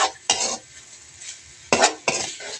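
Food is stirred in a pan, a few short scraping bursts of a utensil against the metal, separated by brief pauses, close and clear with no talking.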